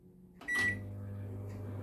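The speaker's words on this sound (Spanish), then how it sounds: "otra vez al microondas. Y exactamente lo mismo, 800 vatios de potencia, otros 10 minutos." A microwave oven set to 800 watts starts with a click and a beep, then settles into a steady low hum that runs on close by.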